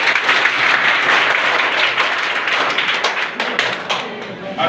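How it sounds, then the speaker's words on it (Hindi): An audience applauds at a mark sheet distribution ceremony, with dense, steady clapping filling the room for several seconds and easing slightly toward the end. "ताली को बजा दो।"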